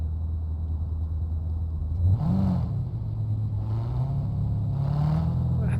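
The engine of a Quadra car in the video game Cyberpunk 2077 hums low and steady, then swells in several revving rises, with a voice speaking over it.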